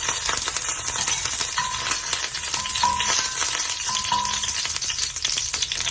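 Curry leaves crackle and sizzle loudly in hot oil with cumin and fennel seeds, a dense continuous spatter close by, with faint metallic taps from the pan and no one speaking.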